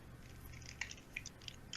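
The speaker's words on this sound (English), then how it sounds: "I'm chewing." A person chewing food close to the mic, with wet bites and small crunchy clicks in an uneven rhythm over faint background noise, without any speech.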